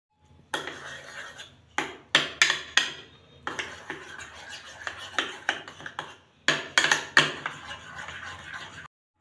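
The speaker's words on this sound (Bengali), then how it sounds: "এবার এটা খুব ভালো করে মিশিয়ে দেব।" A spoon knocking and scraping against a bowl while mixing kidney bean burger patty mixture with grated garlic and tomato ketchup, close and loud, in bursts of rhythmic clatter separated by short pauses.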